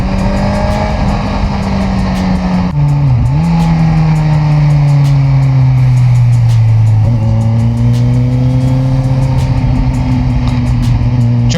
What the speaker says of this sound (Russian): О, выхлоп красивый выхлоп.